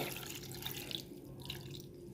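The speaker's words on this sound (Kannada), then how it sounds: "ಈಗ ಇದಕ್ಕೆ ನೀರು ಹಾಕಿ" Steady stream of water pouring into a cooker of black chickpeas, a continuous hiss and splash with a few brighter droplet-like splashes near the middle.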